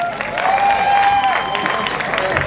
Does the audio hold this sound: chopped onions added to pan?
no